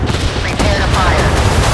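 Warship guns fire in the naval game Force of Warships, giving a short burst of loud booming shots over a dense low rumble.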